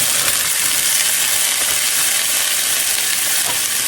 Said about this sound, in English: If you don't hear that sizzle when you put them in, your skillet was not hot enough